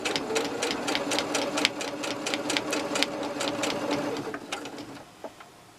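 A sewing machine stitches slipper pieces in a fast run of rhythmic needle strokes with a steady motor hum, close and loud, slowing and stopping near the end.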